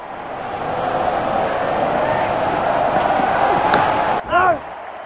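A big crowd roars at a cricket stadium during a Bangladesh versus Australia match, a steady dense wall of cheering that holds throughout, with a short sharp burst of noise near the end.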